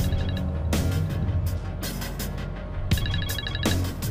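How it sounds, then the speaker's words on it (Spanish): A mobile phone rings loudly with a repeating melodic ringtone, its pattern of tones sounding several times in a row with no one speaking. "te está sonando tu celular"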